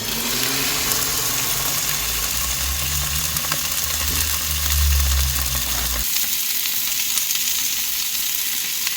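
Steak sizzles loudly in a pan alongside tobacco onions while cooking outdoors at a stealth camp in a UK town centre, a steady dense frying hiss that carries on alone throughout.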